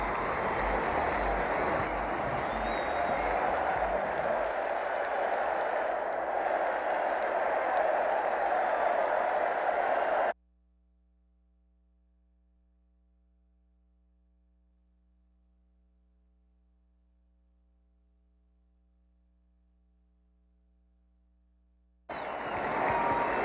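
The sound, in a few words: crowd roaring at Fenway Park baseball game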